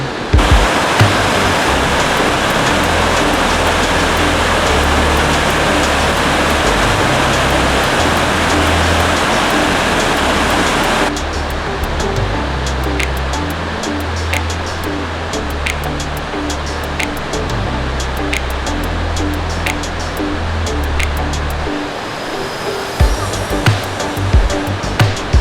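A steady, loud rush of a waterfall roars continuously, softening partway through while the broadband wash carries on with scattered clicks.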